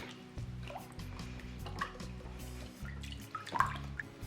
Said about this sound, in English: I add more pulp, mix it in very well